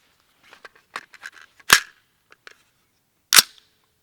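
Two sharp 300 Blackout pistol gunshots firing Barnes TAC-TX hunting loads outdoors, about a second and a half apart, with softer clicks and handling noises scattered between them.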